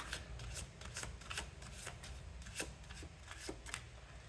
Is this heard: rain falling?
no